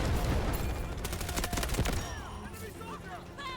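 A submachine gun in the Delta Force video game fires rapid bursts up close, sharp volleys crowding the first two seconds before the shooting tapers off to quieter game sounds.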